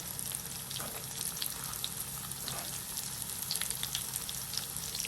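Small bananas coated with egg fry in hot oil for an evening snack, a dense, even sizzle with fine crackling bubbles throughout, close and continuous with no voices.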